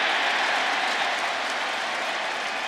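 A large crowd at Dodger Stadium during a 2008 NLCS playoff baseball game between the Phillies and Dodgers roars and applauds in a dense, continuous wash of cheering, loud and sustained, with no voices standing out.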